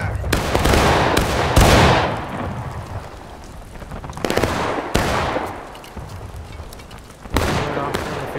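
A Civil War musket volley fires in the video game War of Rights, a loud crackling roll of many shots, followed by more scattered booming reports and rolling echoes across an open field, with voices faintly under it.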